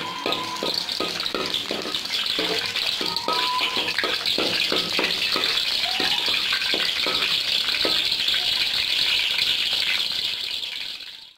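Onions fry in cooking oil with a continuous sizzle, broken by repeated clattering taps of stirring throughout.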